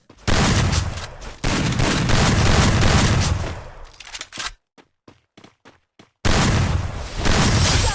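Heavy bursts of automatic gunfire fill a Free Fire room match, loud and sustained, then break off into a quiet stretch of light clicks and taps before another dense volley erupts.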